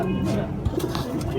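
A female Laal Pari pigeon in Hyderabad gives a low, soft coo close by, with someone talking over it.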